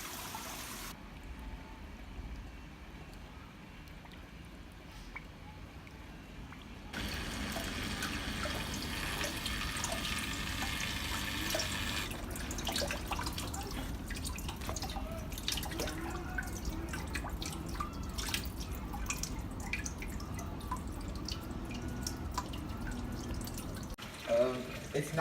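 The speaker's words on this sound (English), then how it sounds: "the bell siphon has started siphoning the water off" Water gushes steadily as an aquaponics bell siphon starts draining a grow bed, a loud continuous rushing flow after a quieter dripping start, with someone talking over it.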